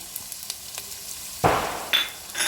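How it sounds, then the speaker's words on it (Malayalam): A few soft clicks, then bursts of sizzling as shallots hit hot coconut oil and fry, flaring up again in short waves. "ഇത് നമുക്ക് കറി വറവിടുന്ന പാകത്തിലൊന്ന് മൂപ്പിച്ചെടുക്കാം"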